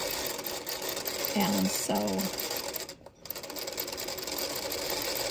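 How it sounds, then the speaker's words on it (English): A vintage featherweight sewing machine stitches around a flower appliqué on a quilt block, running in a fast steady mechanical chatter with a brief pause near the middle; someone speaks briefly over it. "I'm just going to sew around this flower."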